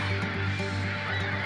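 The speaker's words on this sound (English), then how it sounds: "You can hear the seagulls talking to each other." Seagulls calling at Bondi Beach, stirred up by schools of bait fish, their repeated honking cries overlapping over a steady wash of background noise.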